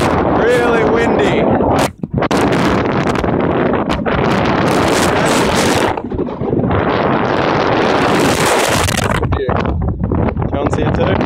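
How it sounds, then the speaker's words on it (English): Loud, steady wind buffets the microphone in heavy gusts on the Te Paki sand dunes in New Zealand, with people talking over the roar. "Really windy."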